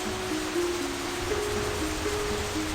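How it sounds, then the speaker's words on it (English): Steady rain pours down in a tropical Amazon rainforest in a cartoon, a dense even wash of drops with a faint melodic tone running beneath it and no voices. "Oh no, it's raining."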